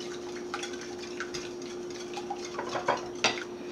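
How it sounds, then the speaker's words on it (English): A whisk blends pancake batter in a bowl with light scraping and tapping strokes that grow a little stronger toward the end, over a faint steady hum. "take my whisk and blend that together pretty good"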